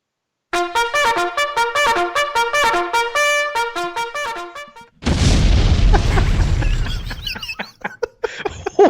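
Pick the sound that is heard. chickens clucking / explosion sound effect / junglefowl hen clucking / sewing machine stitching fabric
explosion sound effect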